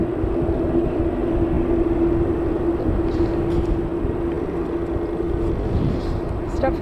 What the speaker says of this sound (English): the Dreamliner is one of my favourite aircraft. I love the noise it makes